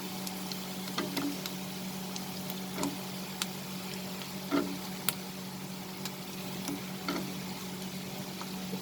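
Potatoes and onion sauté in a pan over a high flame, a soft steady sizzle with occasional light clicks and stirring knocks, close and fairly quiet.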